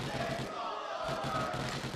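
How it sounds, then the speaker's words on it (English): An esports tournament crowd chants in a large venue, a dense, roaring wash of voices that stays steady and loud throughout, with a rhythmic pulse underneath. "I don't know what the crowd is chanting"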